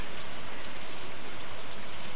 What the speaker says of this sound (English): Oh, I love it when it rains.